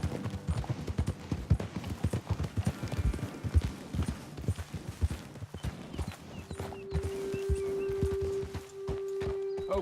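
Horses' hooves clip-clop close and loud in Red Dead Redemption 2, many overlapping steps in a brisk rhythm that slows and fades near the end as a low steady tone and ambient hum take over.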